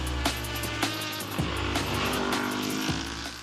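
A big-engined motorcycle with a multi-cylinder motor and an unusual exhaust system runs steadily with a deep, throbbing note, broken by several sharp bursts as it shifts and pulls past, with no voices.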